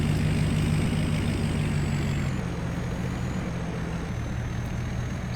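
A truck in Farming Simulator 22 hauls up a hill, its engine giving a steady, loud low drone with a faint high whine above it, the pitch shifting slightly partway through.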